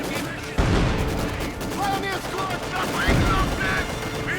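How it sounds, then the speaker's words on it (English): Machine gun fire rattles in Company of Heroes 2 during a 1v1 match, with a Maxim MG and a T-34 in the fight. Rapid bursts of gunfire and booms come over a commentator's voice. "Enemy MG has opened up!"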